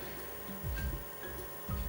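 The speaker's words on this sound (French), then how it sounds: "le CD tourne, qu'il a été lu" A Sega Dreamcast console, under repair and showing no picture, spins a UEFA Striker game disc, giving a low whirring hum with soft repeating ticks and swells, heard alone at close range.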